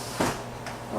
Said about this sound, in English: Maybe I'll close the door.